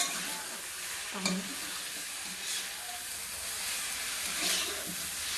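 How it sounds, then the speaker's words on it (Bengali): A curry with fresh coriander leaves is stirred in a hot pan, giving a constant bright sizzling hiss with a few soft scrapes of the spoon against the metal, near and even in level. "এবার লেড়ে দেবো একটু পরিমাণ মতো লেড়ে দিচ্ছি"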